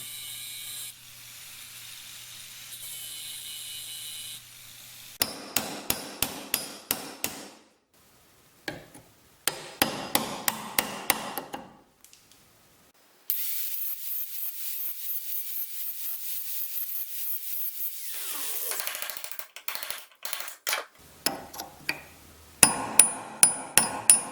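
Bursts of sharp metallic hammer strikes on a punch knocking out a rivet from a clamp held in a vise, in quick rhythmic runs, broken by pauses and a long stretch of steady hissing noise, fairly close and loud.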